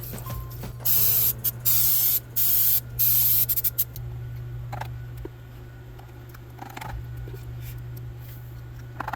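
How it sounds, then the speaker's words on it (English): Several short, loud hissing bursts of spray into popsicle molds in quick succession, followed by quieter clicks and light handling noises. "you want to spray the inside of your popsicle molds, obviously, so they won't stick"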